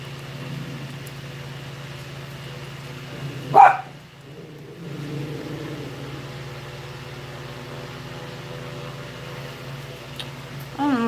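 A dog gives a single short bark indoors, standing out from a steady low hum of room noise, with quiet background sounds around it.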